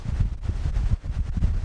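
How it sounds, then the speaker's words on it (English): Gusty wind rumbling against the microphone at a natural rock arch in low, uneven surges, close and blustery with no voices. "It's a little bit windy, a little bit blustery"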